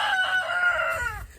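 A rooster crows once, loud and close, in a backyard flock of chickens. The drawn-out call holds steady, then falls away at the end with a brief trailing cluck.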